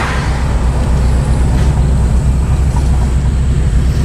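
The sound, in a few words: 1979 Pontiac Firebird Trans-Am braking to a stop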